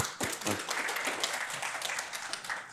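An audience claps together, a dense steady patter of many hands that holds for a few seconds without letting up.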